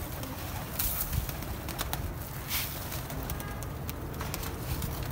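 Pigeons around a trap net, with soft cooing and occasional bursts of wing flapping over steady outdoor noise, fairly faint and without talk.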